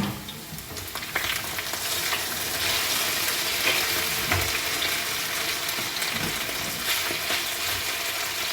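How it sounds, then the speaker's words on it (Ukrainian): Steady sizzling and crackling of onion and potatoes frying in a hot pan, with occasional stirring and scraping sounds, close up and continuous. "Смажу лукову, картоплю."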